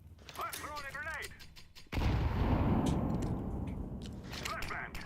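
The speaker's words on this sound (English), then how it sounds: "I'm throwing a grenade." A grenade blast in the Counter-Strike video game, a sudden loud burst that cuts in after a short stretch of voice and game sounds, then lingers as a broad rumbling roar that fades slowly.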